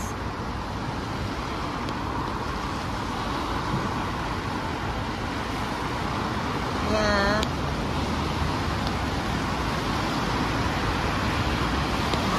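Cars stream past on the road below an overpass in the rain, a continuous broad traffic roar with passing swells, while a voice briefly speaks over it.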